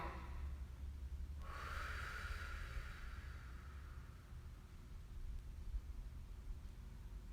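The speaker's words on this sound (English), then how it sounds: "I want a deep breath in through your nose. Really filling up that belly, that chest, working that air up into those shoulders, and then exhaling it all out." A slow, deep breath drawn in through the nose and then let out during a yoga session, a soft airy rush heard close and alone.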